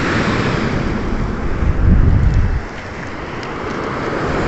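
Sea waves wash over a pebble beach at San Fernando, La Union, a steady broad rushing roar with a louder surge midway, then settling back, with no voices.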